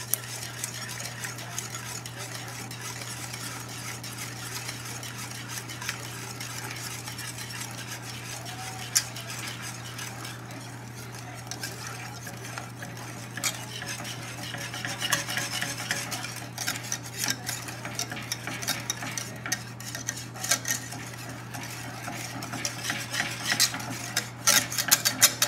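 A whisk beats steadily in a bowl as egg yolks are whipped into a hot spinach-and-cheese soufflé base. The rapid, continuous clicking and scraping runs close and persistent over a low hum, with no voices.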